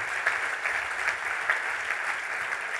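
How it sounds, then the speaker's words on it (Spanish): Steady applause from a large audience at a Socialist Party congress in the Basque Country, a dense, even roar of many people clapping at moderate volume with slight rhythmic swells and no talk on top. "un aplauso para ella"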